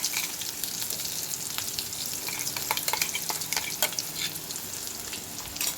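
Pointed gourd paste frying in a pan over low gas and being stirred. A steady, close sizzle crackles throughout, with scattered sharp pops and spatters and no talking.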